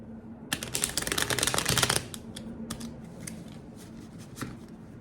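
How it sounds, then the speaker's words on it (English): Quick shuffle of a Mini Rider-Waite tarot deck, a dense crisp riffle of cards up close for about a second and a half, followed by a few lighter taps and card handling in a quiet room. "I'm going to do a quick"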